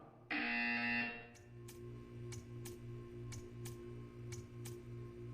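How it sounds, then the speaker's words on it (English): In the Portal 2 video game a harsh electronic buzzer blares for about a second, then gives way to a low repeating hum with regular faint ticks, with no talk. "You will hear a buzzer."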